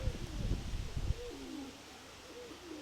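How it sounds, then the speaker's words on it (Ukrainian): Pigeons coo softly outdoors, a few low warbling calls at moderate distance, the first mixed with a brief rustle before the cooing carries on alone and quiet. "П'ятірка, ось, голубів"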